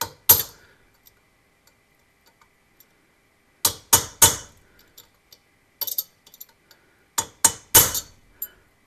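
Sharp metallic hammer taps on a center punch in small clusters of two or three, separated by quiet pauses, close and crisp with faint ringing, working on a 1965 Volvo Amazon.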